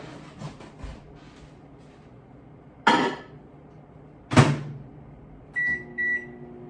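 A microwave oven runs while chocolate melts inside for brownies, a low steady hum broken by two loud door clunks and finished by a pair of short electronic beeps.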